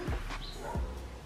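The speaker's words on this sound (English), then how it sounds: "the dogs are being disrespectful today." Two or three quick dog barks or yips in a home, fairly close and moderately loud, with a high whine between them and no talking.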